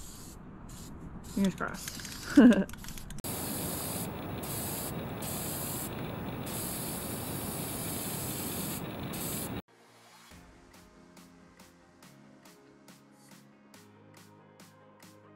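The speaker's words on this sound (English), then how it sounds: "Now we're going with the high heat spray paint, giving that a nice coat so it hopefully doesn't rust too much." High heat spray paint hissing steadily from a can as an outdoor shower frame gets a coat, a continuous close spray lasting several seconds after brief handling noises, then stopping into quieter ambience with a short spoken remark.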